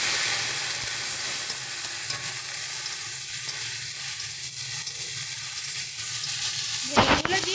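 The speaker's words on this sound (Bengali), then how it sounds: "ভেন্ডিগুলো দিয়ে ভেন্ডিগুলোকে ভালো মতন করে একটু ভেজে নিতে হবে" Okra fries in hot mustard oil in a wok, a steady, dense sizzle close up throughout, ending with a sharp clatter of a utensil against the pan.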